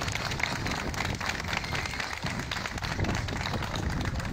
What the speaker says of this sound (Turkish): Alkışlıyoruz efendim.